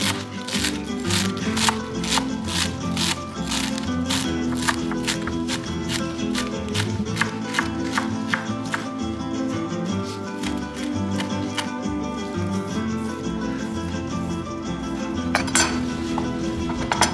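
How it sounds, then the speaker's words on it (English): Knife finely chopping cilantro on a board, a fast steady run of crisp, close taps that pauses briefly and resumes, with light clinks. "let's go ahead and finely chop our cilantro"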